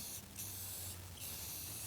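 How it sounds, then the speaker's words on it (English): An aerosol spray paint can hisses in a close, continuous burst, briefly easing twice before resuming its steady spray. "get away from it and spray"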